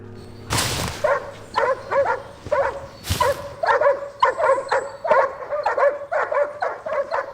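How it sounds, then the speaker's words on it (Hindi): Several dogs bark repeatedly in short bursts, fairly close and loud, with two sharp louder barks near the start and a steady run of yips and barks after. "जेम्स, डॉग्स को खाना दे दोगे?"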